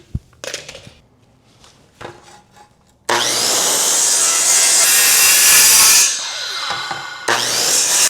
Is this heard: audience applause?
no